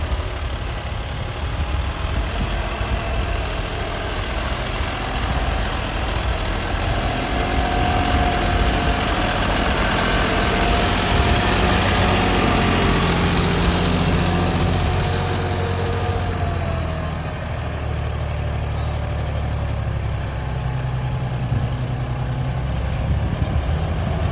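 A John Deere 5210 tractor engine runs steadily nearby, a low continuous chugging drone that shifts slightly in tone partway through.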